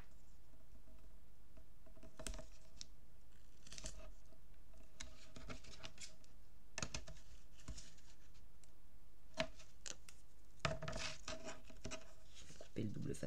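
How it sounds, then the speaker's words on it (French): Scissors snip through double-sided tape on a paper album page, a series of short, close crisp cuts and rustles spread irregularly across the moment, with no speech over them. "Couper le double face qui dépasse de mes pattes"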